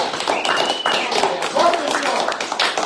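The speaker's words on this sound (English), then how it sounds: "So let's give a big round of applause for Mark" A crowd at a Christmas Festivus party applauds a man being honoured with steady, dense clapping throughout, while voices talk over it.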